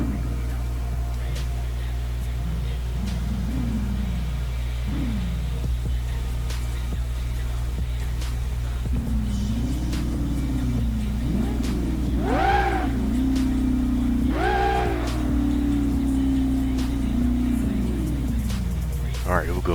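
A supercharged Mustang GT in BeamNG runs at a steady drone, then revs up in several rising and falling pulls, with speech at times over the engine.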